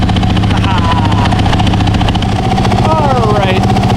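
A 2018 Yamaha YZ450F four-stroke dirt bike idles as it warms up, a loud, close, rapid and steady putter that holds its pace throughout.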